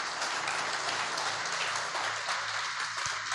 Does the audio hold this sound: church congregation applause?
yes